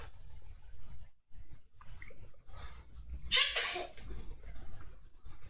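A single sharp sneeze bursts out nearby in a quiet room, preceded by a short intake of breath, with soft rustling and breathing around it.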